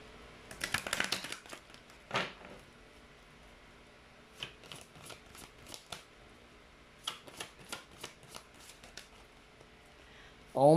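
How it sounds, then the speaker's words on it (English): Card shuffling in several quick riffling bursts with pauses between, fairly close and moderately loud, ending in a sharper clatter. "Let me just shuffle it."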